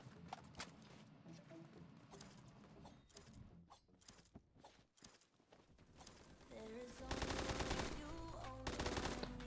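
Rapid automatic gunfire from a first-person shooter match in Phantom Forces, bursts of shots dense and loud, growing heavier toward the end, with game sound effects mixed in.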